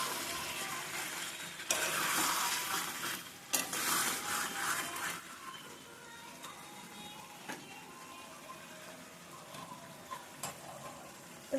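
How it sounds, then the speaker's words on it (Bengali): Chicken and potatoes being stirred and fried in a pan for a spicy red chicken curry, with soft sizzling and intermittent scraping of a spoon, louder bursts early then quieter frying with occasional clinks. "এভাবে কষিয়ে নিয়ে"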